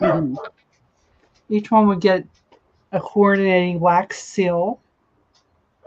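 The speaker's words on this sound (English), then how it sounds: "Sorry about the dogs." Dogs bark and yip indoors in short bursts during a live vintage linens sale, mixed in with a person speaking close by.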